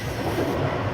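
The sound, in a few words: train rattling along on the journey home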